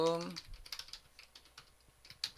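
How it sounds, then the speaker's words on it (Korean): Irregular clicks of typing on a computer keyboard, close and fairly quiet, after a brief voice at the very start. "그냥 타이핑 합니다"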